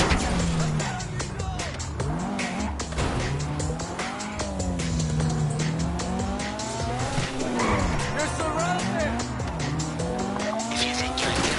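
A car in a video game driving hard under police pursuit while damaged, engine droning continuously with repeated tire squeals and skids, loud and close with voices talking over it.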